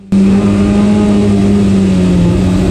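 A stockcar at Cowdenbeath Racewall holds a loud, sustained engine roar close up, the pitch steady with a slight sag near the end as it races on.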